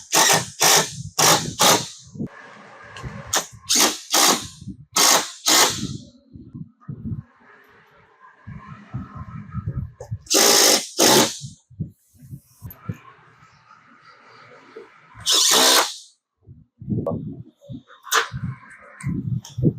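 Power tool driving tech screws into a 2026 Can-Am Maverick R skid plate, heard as short, loud, close bursts of whirring and clicking, repeated in quick runs with gaps of quieter handling noise between.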